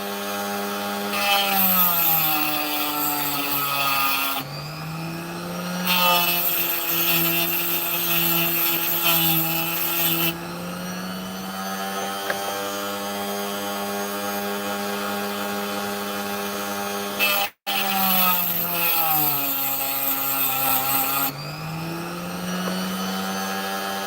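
Power tool grinding sand away from a rough opal, a steady high whining buzz with strong tonal hum that shifts in pitch as the bit bites and eases, broken by a brief cut-out.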